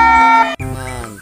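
A toy ambulance on a long toy transport truck plays an electronic siren, a loud, buzzy two-tone wail that switches pitch once partway through a brief burst.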